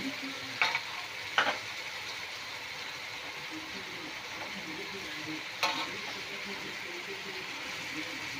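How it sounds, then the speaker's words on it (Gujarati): Noodles with manchurian and paneer stir-frying in a pan give a steady, even sizzle throughout, with a few brief scraping clatters from stirring near the start and again later. "હવે એને મિક્સ કરી સ્ટર ફ્રાય થવા દઈશું 2 મિનિટ"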